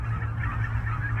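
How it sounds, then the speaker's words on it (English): Geese and ducks honk on open water in a steady, dense chorus of overlapping calls, loud and continuous with no voices. "There's quite a few ducks and geese and cranes in the water."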